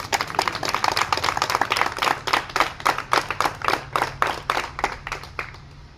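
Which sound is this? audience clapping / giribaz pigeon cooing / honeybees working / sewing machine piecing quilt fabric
audience clapping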